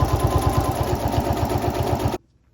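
A sewing machine understitches a seam allowance beneath a collar on a winter cape, a rapid rhythmic needle clatter running steadily and close up, then stopping abruptly into near silence.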